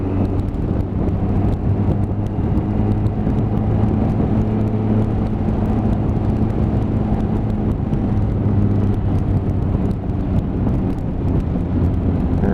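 A 157-brake-horsepower shaft-drive motorcycle under way, heard as a steady, loud engine drone blended with rushing wind across the microphone, unbroken and even throughout.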